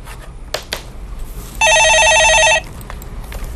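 A telephone rings on a live call-in stock market broadcast, one steady electronic burst of trilling ring lasting about a second, loud and clear over a quiet studio background.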